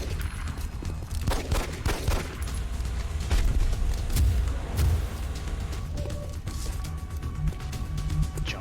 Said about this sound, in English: so I need to do rapid fire.